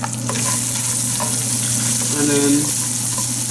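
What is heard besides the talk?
garlic and ginger mixture sizzling in hot oil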